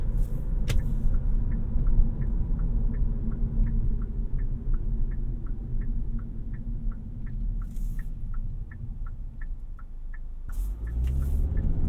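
Inside a 2023 Kia K5 GT-Line sedan cruising at highway speed, a steady low road and engine rumble fills the cabin, joined by a regular soft ticking like a turn signal through the middle stretch.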